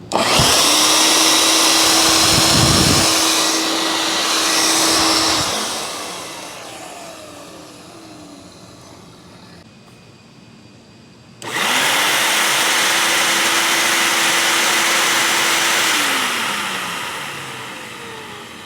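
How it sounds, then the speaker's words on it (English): Repaired shop vac switched on twice, each time whining up to a steady, loud motor drone with airflow hiss before spinning down, a quieter pause between runs. "If you've got a shop vac and it's making a lot of noise"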